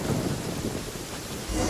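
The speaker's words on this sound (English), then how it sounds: "Uh-oh! Lightning storm!" Thunder from a lightning storm in Genshin Impact, a deep continuous rumble mixed with steady rain, with a louder low roll swelling near the end.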